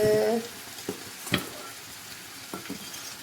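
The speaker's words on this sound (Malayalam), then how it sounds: "ശർക്കര ഇപ്പോൾ ഉരുകി വന്നിട്ടുണ്ട്" Melting jaggery sizzles softly in a pan on a small gas burner while a sweet payar puzhukku is being cooked, a faint low bubbling with a few scattered clicks and taps.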